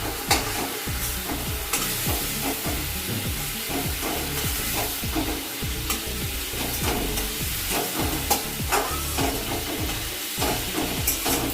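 Fish fries in a pan with a steady, close sizzle and hiss, broken by occasional clinks and scrapes of stirring.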